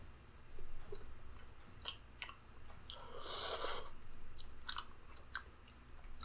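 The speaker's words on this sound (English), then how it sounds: "Slurping a donut." Close chewing and soft wet biting into a Krispy Kreme Pikachu jelly-filled donut, with a slurping burst in the middle and a few crisp smacks around it, recorded quiet and near.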